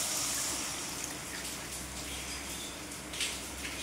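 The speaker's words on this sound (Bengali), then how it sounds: "জল দিচ্ছি" Water poured into a pan of Bengali fish curry whose spices have cooked down in oil, a steady close hiss and trickle that fills the whole stretch, with a brief splashy swell near the end.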